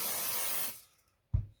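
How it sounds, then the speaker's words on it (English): Aerosol activator sprayed onto glue on a carbon RC car chassis, a close steady hiss for under a second, then silence and a short soft thump. "When that is done, we spray a bit of activator"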